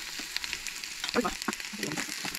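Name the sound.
roasting grated coconut lightly in a pan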